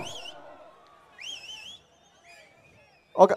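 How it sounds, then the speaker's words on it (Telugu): A wavering, high whistle sounds in two short bursts with a pause between, followed by a brief loud clap-like burst at the end. "ఒక విజిల్ ఇలా ఉండాలి ఎనర్జీ."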